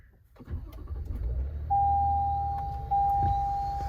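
A 2022 Toyota Tundra Platinum pickup fires up, a brief crank swelling into a low, steady idle heard close inside the cab, with a sustained electronic chime tone sounding twice over the engine.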